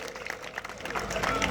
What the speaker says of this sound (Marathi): जरा टाळ्या करा जरा कुस्त्या जोडणाऱ्यांसाठी,